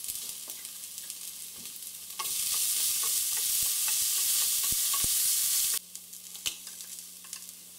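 Garlic paste sizzles and is stirred in a pan for a Bengali chital fish dumpling curry, with a loud steady hiss through the middle and scraping spoon strokes before and after.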